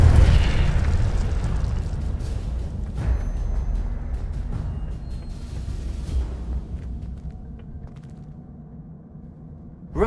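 Incendio fire spell cast in Hogwarts Legacy, a loud rumbling burst of flame that roars at first and then slowly fades and thins out, ending with a small sharp crackle.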